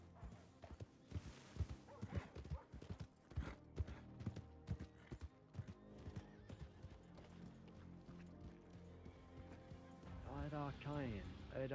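Hollow clip-clop horse hooves in a video game, a steady trotting rhythm, up close, with a voice talking over them and a brief whinny near the end.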